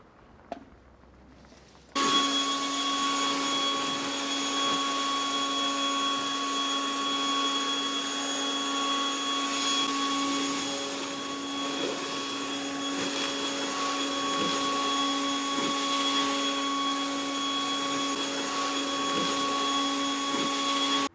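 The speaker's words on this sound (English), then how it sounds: "Just as I blow these leaves out" A leaf blower clears fallen leaves off a lawn beside a stone border. It cuts in after a brief quiet start and runs as a loud, steady, whining roar with a constant engine drone until the end.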